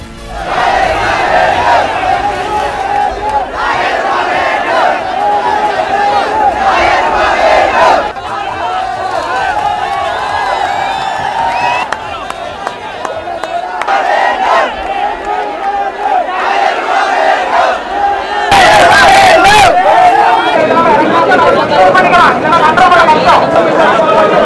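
A large crowd of plantation workers protesting over wages in Sri Lanka chants and shouts loudly in waves, with a voice speaking over the crowd noise.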